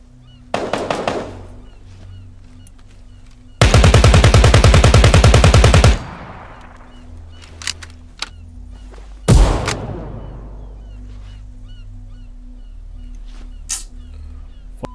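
Gunshots in the tactical shooter Ground Branch: a short burst, then a long sustained full-auto volley lasting about two seconds, followed by a single loud booming shot with a decaying echo, all close and loud with little talk.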